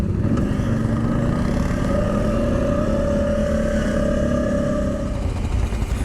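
An ATV engine with its exhaust held at a steady, easy rev, a continuous loud drone with a sustained tone, close and running alone without talk.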